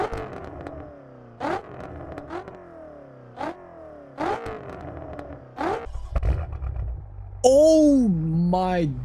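A sports car in the No Hesi driving game starts up and then revs in sharp repeated bursts, each throttle blip rising and falling before a final heavier rev, with an excited voice breaking in near the end.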